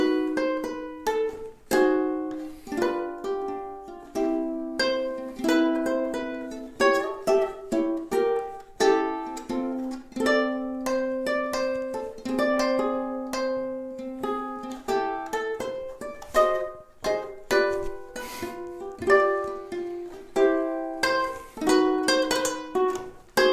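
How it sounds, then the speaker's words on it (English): A solo ukulele plays a melody as a musical interlude, with clear plucked notes and strummed chords in a steady, relaxed rhythm, close and alone without voices. "how to play the melody solo"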